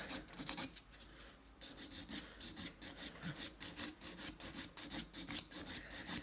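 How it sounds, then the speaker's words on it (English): A nail file rasps back and forth over an acrylic nail tip, bevelling it down, in a steady run of quick, evenly spaced strokes, close and fairly loud with no talking. "this tip already has some acrylic on it, so I'm just beveling it down"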